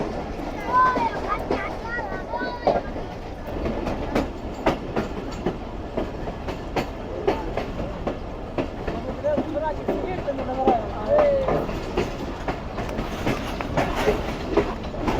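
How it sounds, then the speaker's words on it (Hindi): Train wheels clatter over old, worn railway track near Dadu, Pakistan, with irregular clicks and knocks over a rolling rumble and wind, continuous throughout. "ये जो अभी मज़ेदार ट्रैक साउंड आ रहा है"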